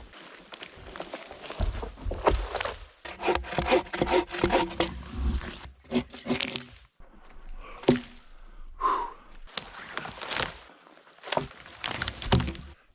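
Cutting a spruce tree in snowy Alaskan woods: rough, rhythmic sawing and rubbing on wood in repeated bursts, close and fairly loud, broken by short pauses and heavy breathing.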